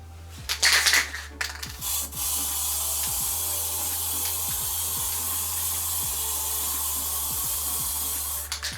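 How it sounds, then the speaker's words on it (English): Clear coat sprayed from an aerosol onto balsa wood pop up sticks for pike fishing, a steady close hiss running almost continuously with a few short bursts and breaks near the start. "spray them into here, catching kind of most of the glue, and then I can turn them and spray the other side"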